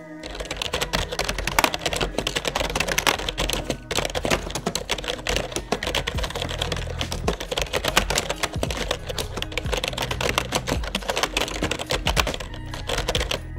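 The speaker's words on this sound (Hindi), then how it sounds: "कीबोर्ड का साउंड सुना देता हूँ आपको मैं," Rapid, steady typing on a clacky Live Tech KB 03 gaming keyboard, dense keystrokes continuing without pause, close and fairly loud with no talking.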